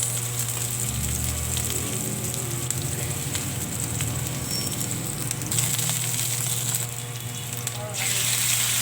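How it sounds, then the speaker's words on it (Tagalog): Garlic and onion sauté in a pan with a loud, continuous sizzle and crackle, joined by a low steady hum and occasional clatter near the end. "igisa lang natin at hintayin natin na mag-brown yung ating garlic at saka mag-translucent yung ating onion"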